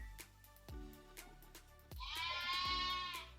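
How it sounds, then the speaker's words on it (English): Sheep and lambs bleating in a field, several separate calls with a long, loud, wavering bleat near the end, fairly close and carrying over quiet surroundings without any talk. "If you're wondering what's all the bleating's about there, some sheep in the field across the way there"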